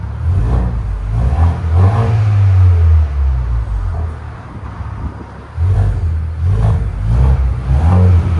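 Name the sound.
2025 Ford Bronco 2.3L turbo engine revving through aftermarket exhaust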